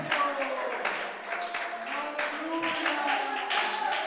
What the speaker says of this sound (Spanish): ¿Cuántos le dan aplausos al Rey de Gloria?